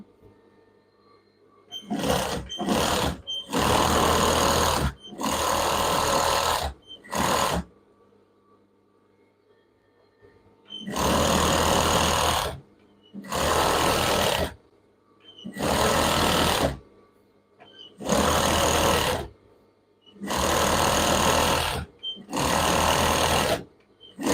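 A sewing machine stitches children's pyjama pants in repeated bursts of steady whirring, two quick short runs followed by several longer runs of a few seconds each, separated by pauses, loud and close with no talking.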